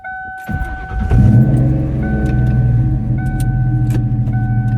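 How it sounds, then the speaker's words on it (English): A 1997 Ford SVT Cobra with a 4-valve V8 cranks and catches, then settles into a close, throaty idle with a few clicks and ticks over the steady rumble. "I will never get tired of hearing a 4-valve."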